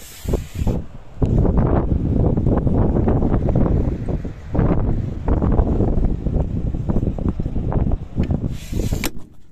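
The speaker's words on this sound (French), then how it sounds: "ce vent là, regardez ça, ce vent là" Strong wind near Saint-Tropez buffets the microphone in loud, continuous roaring gusts, with brief lulls between blasts.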